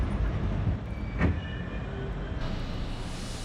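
An R32 subway train runs in a video game, a steady low rumble of motors and rolling wheels, with a brief rising whine partway through and a faint squeal later, and no talking.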